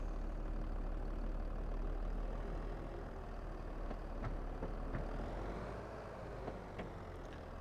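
Small mowing tractor engine idling in Farming Simulator 22, a steady low rumbling drone with a few faint clicks, no voices.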